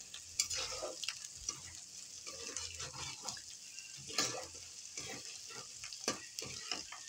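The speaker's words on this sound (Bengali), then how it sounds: "এরপরে মশলা দিয়ে একটু নাড়ানাড়ি করে" Spices are stirred into food frying in a pan with a spatula that scrapes irregularly over a continuous close sizzle, quiet and with no talk.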